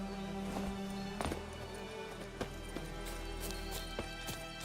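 Horse hooves clip-clop at a steady trot along a road in The Witcher, a rhythmic run of thuds under a constant hum of game music and ambience.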